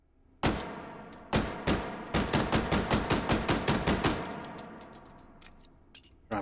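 Gunfire from a modified gun in the VR game Hot Dogs, Horseshoes & Hand Grenades: a few loud, sharp single shots, then a rapid burst of about a dozen evenly spaced rounds, then two final isolated shots, with no talking.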